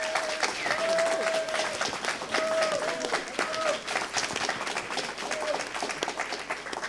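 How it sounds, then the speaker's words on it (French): An audience at a French talk on cinema and video games applauds throughout, with a sustained wash of clapping under which faint tonal whistles or background sounds appear intermittently. "Vous pouvez l'applaudir"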